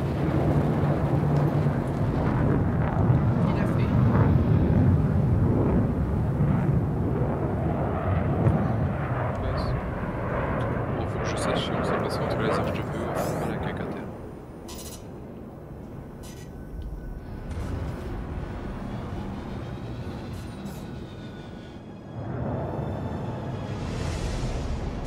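A spaceship in the Star Citizen video game lifts off as a loud, deep, broad engine roar that swells for about thirteen seconds, then drops to a quieter hum before rising again, with people talking over it.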